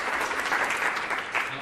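Applause fills the room at a House Republican leadership press conference, a steady dense wash of clapping from the gathered audience that holds for the whole moment with no voices over it.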